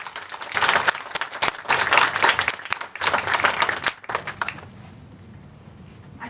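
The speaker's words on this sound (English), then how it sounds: "so they too deserve a round of applause." Audience applause at a college graduation ceremony, loud bursts of many people clapping in surging waves for about four seconds before fading to quiet room tone.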